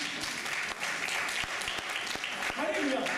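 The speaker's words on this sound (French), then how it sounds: "Est-ce qu'on peut l'acclamer?" Congregation clapping during a French-language church sermon, a steady wash of applause with scattered sharper claps, sustained for a few seconds at moderate loudness.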